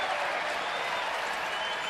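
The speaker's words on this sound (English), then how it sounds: "Crowd happy with that call." Baltimore Orioles ballpark crowd cheering an umpire's strike call against Oakland, a brief dense wash of distant cheering and clapping that holds steady.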